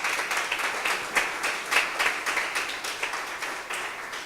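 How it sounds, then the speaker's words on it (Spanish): A church congregation applauds steadily during a sermon, with many hands clapping together in a dense, continuous patter that swells slightly in places. "Dale un aplauso al rey si puede."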